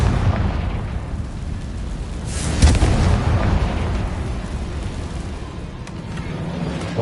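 Explosion spell from a Harry Potter–style video game on PS4: one muffled boom around the middle of a steady low rumble of game ambience, with no voices.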